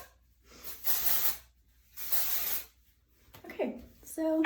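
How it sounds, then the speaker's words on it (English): Two bursts of hair spray hiss from an aerosol can, each about a second long and fairly close, aimed at big voluminous curls, with a brief rustle and a voice-like tone at the end. "I sprayed that right in my eye."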